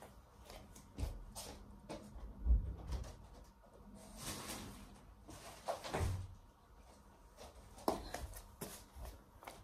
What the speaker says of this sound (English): I have to close the door just a second